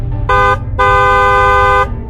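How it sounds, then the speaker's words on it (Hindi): A loud bus horn honks twice, a short blast then a longer sustained one, over a low engine rumble. "तभी बस वाले अपने बस का हॉर्न बजाता है"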